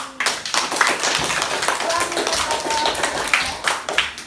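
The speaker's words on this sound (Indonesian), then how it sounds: "Tepuk tangan buat kita semua" Primary school pupils in a classroom at SD Negeri 4 Keramas clap their hands together, a lively burst of sharp, overlapping claps with children's voices mixed in, close and fairly loud.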